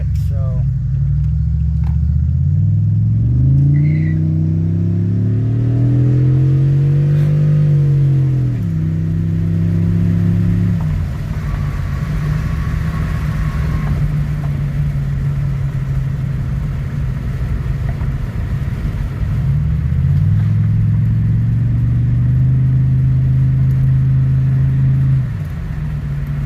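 A 2007 Pontiac Grand Prix GXP engine runs after a cam sensor replacement with a loud, close idle hum. It rises in a couple of revs, settles, then revs again. Someone talks over it.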